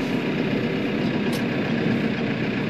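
A Case IH Luxxum tractor engine idles in a steady low rumble, close and constant, with no talk over it.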